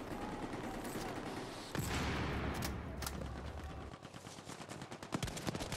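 An M60 machine gun in a Battlefield game fires in sustained bursts, dense rapid reports that are loud and close, with rattling shots continuing toward the end.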